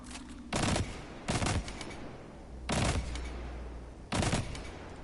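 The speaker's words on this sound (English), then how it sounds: "I use a 4-round burst pulse rifle, so it can get me multiple rounds all at once." A four-round burst pulse rifle firing in a video game, four loud, separate bursts spaced roughly a second or more apart over a low background hum, with no voices.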